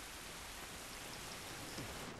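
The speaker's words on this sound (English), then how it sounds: "it's raining." Rain in the video game The Last of Us, a constant hiss of falling water with a faint thunderstorm feel, steady and unbroken with no voices.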